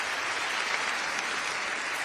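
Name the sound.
audience applause for the staff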